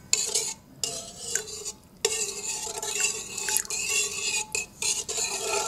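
A spoon stirs an egg into dough in a bowl while making savoury mini tropéziennes with foie gras and speculoos. Close, uneven scraping and clinking strokes come in bursts, with brief pauses between them.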